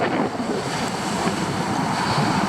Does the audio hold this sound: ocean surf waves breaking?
yes